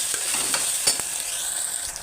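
Tomato rice masala sizzling in a pan as chilli powder is stirred in, a steady bright frying hiss with soft scraping strokes from the spoon.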